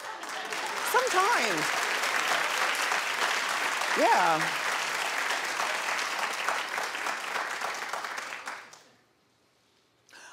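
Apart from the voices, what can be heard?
studio audience clapping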